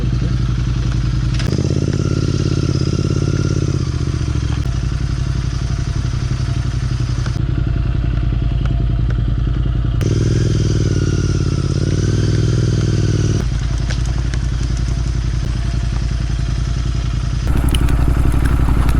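A motorcycle rides over a rough road on a rainy day, its engine a loud, continuous low drone that rises and falls in pitch with shifting load, close to the microphone, rattles and bumps mixed in.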